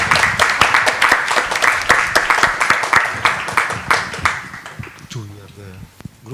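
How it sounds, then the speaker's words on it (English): A conference audience claps in a sustained, dense round of applause for the speakers that tapers off toward the end, with a voice starting to speak as it fades. "A round of applause for the speakers"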